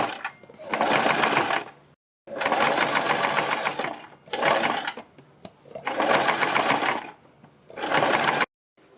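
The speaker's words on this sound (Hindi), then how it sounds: "फिर दूसरी साइड भी हमें इस तरह से सिलाई लगा लेनी है, बिल्कुल अपने निशान के ऊपर रखते हुए।" A sewing machine stitches the second side of a dress neckline along a marked line. About five loud, close, steady whirring bursts are separated by short pauses, with no talk.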